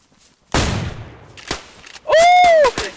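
Gunfire in the video game DayZ: a loud, close shot that rings out and decays, a few fainter shots after it, then a burst of louder shots with a bright ringing tone, and no talk.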